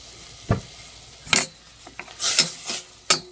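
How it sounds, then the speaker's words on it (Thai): Green curry ingredients being stir-fried in a pan: short scraping strokes of a utensil against the pan come in irregular bursts over a soft sizzle, close and fairly loud. "ใส่ลงไปผัด"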